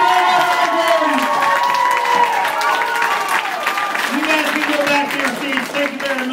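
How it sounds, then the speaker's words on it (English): A lively crowd at a Kung-Fu Night rock show claps and cheers loudly and continuously, a dense wash of applause with shouts and voices rising through it from start to finish. "Ladies and gentlemen, round of applause."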